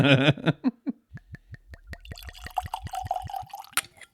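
Bourbon glugs from a bottle into a glass, beginning with a short burst of talk, then a run of evenly spaced gurgling drops that quicken into a steadier pour, close and clear.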